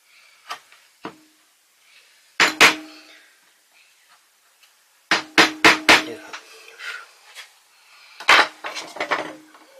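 A hammer striking a chisel while sculpting a crest, heard as sharp metallic knocks in clusters separated by pauses, close and moderately loud, with no talk.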